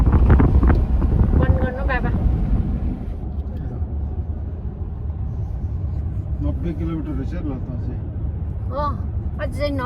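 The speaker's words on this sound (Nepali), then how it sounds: "खिड्कीबाट कस्तो डरलाग्दो हावा" Strong wind roars and buffets against the microphone from an open car window on a road trip in Germany, with people talking intermittently underneath.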